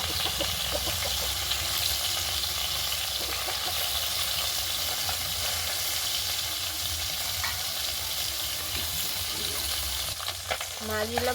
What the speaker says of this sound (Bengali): মাছগুলোকে ভালো করে ভেজে নেব, লাল লাল করে ভাজবো।